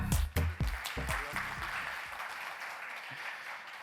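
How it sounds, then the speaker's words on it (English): An audience at a corporate Investor Day event gives a short round of clapping, a few sharp close claps at first followed by a softer, fading patter of applause. "And that calls for a clap."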